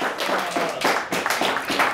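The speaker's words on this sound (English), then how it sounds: "A nice round of applause for both teams." Applause at a televised school quiz match after a triple-overtime finish, heard as a few pairs of hands clapping close by in a lively uneven patter with no voices.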